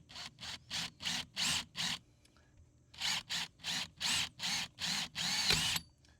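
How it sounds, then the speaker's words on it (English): A power drill bores through a Yamaha AR230 jet boat while a steering lock is fitted, running in a series of short, evenly spaced bursts, a pause, then another run of bursts, fairly close and alone. "All you have to do now is take your time and drill right through."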